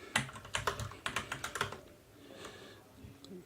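Rapid typing on a poor-quality computer keyboard, a quick irregular run of close clacking keystrokes that thins out into a few scattered taps over a soft background murmur.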